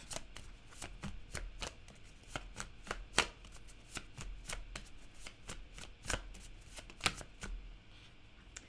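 Tarot cards are shuffled by hand in a steady run of crisp, riffling slaps and flutters, close and moderately loud, with a few sharper snaps standing out and no voices.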